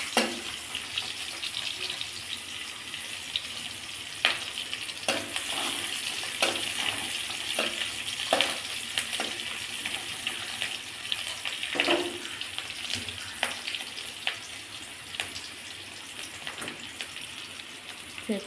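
Chopped onion and garlic fry in a pan with a steady crackling sizzle, close and even, with occasional louder pops and stirring scrapes throughout.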